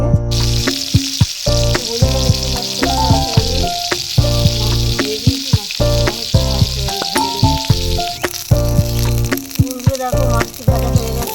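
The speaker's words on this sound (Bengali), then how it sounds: "এবার নুন হলুদ মাখিয়ে ভাজবো।" Fish coated in salt and turmeric fries in hot oil in a kadai, a loud continuous sizzle with bursts of spitting, mixed with background music.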